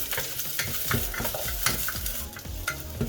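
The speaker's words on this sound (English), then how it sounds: "So then after that we will add onions to it." Onions frying in very hot oil for a sauce base, with quick repeated scrapes and knocks of stirring over a dense, crackling sizzle, close up and with no voices.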